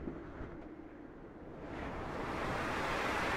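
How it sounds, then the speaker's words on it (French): A strong gust of wind rising over a few seconds into a broad, steady roar, faint at first and growing louder toward the end. "Une énorme bourrasque."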